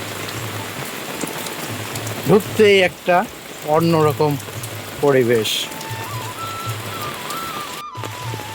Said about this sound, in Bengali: বৃষ্টি তখনই ভালো লাগে যখন টিনের চালের উপর টুপটাপ শব্দ হয়